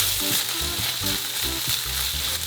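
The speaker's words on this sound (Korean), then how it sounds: "베이컨과 양파를 충분히 볶은 뒤 새우를 넣고 한 번 더 가볍게 볶아줬어요" Bacon, onion and shrimp hiss loudly in a hot pan, a dense, continuous frying sound close by. Light stirring strokes come through beneath the sizzle at an even pace.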